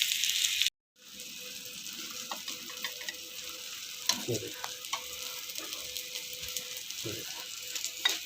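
Potato and chicken kebabs fry in a pan with a continuous close sizzle and a few scraping clinks. The sizzle breaks off briefly near the start, then resumes steadily without talk.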